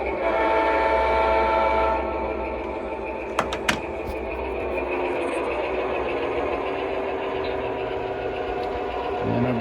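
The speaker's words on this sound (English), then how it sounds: "we'll show you a train running across it" O scale model train rumbling across a double swing gate on a layout, a steady close mechanical whir with two sharp clicks partway through and no talking.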